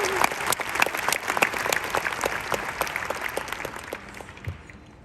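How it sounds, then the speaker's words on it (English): Graduates at a commencement ceremony clap together in a steady, dense round of applause that gradually thins out toward the end. "give yourselves a round of applause"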